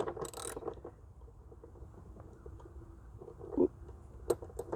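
Ratchet loosening the battery hold-down bracket on a 2016–2019 Honda Pilot, with soft, close clicking turns and a couple of sharper metallic clicks over a quiet background, no talk.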